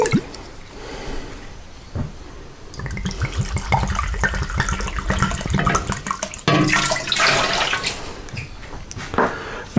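Bourbon and spiced rum poured into a pot for apple pie moonshine, a splashing, gurgling stream of liquid that starts after a quiet moment and runs loud and close through the rest.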